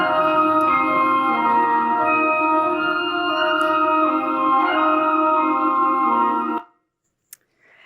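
Calm orchestral classical music with smooth, sustained chords plays steadily at moderate volume, then cuts off abruptly.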